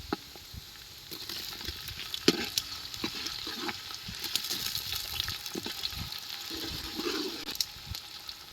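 Finely chopped tomatoes fry with browned onions in a pan on an outdoor wood-fired stove, producing a continuous hissing sizzle with scattered pops and light stirring clicks throughout, moderately quiet and with no voices.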